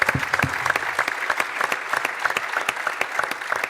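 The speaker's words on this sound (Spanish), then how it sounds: "Un aplauso para ellos, por favor" A live audience at a talk breaks into applause, a dense run of clapping that stays fairly close and steady throughout.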